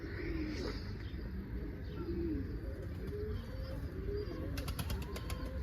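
A pigeon coos in a soft, repeated low rhythm at close range, with faint chirps and a short flutter of wings near the end.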